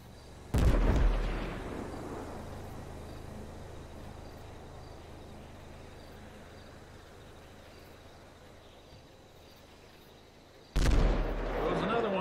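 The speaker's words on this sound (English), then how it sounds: "Take a look at the fireworks at least." Two loud booming firework blasts in GTA 5, one near the start and one near the end, separated by quiet crackling and insect-like chirping.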